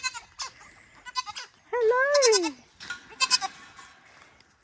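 Goats bleat on a farm at Narraburra Station in Queensland, with a long, loud, wavering bleat in the middle and shorter calls before and after. A person briefly calls out a greeting nearby.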